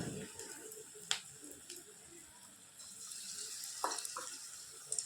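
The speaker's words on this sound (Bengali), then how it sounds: "তেলটা কিন্তু গরম হয়ে গেছে, চলুন ভাজতে থাকি।" Cabbage pakoras frying in hot oil, a soft steady sizzle with occasional sharper crackles and pops, faint and close, with no talking.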